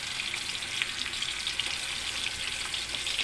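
Ginger garlic paste frying in hot oil for mutton biryani, a steady dense sizzle and crackle holding at an even level close by, with no voices.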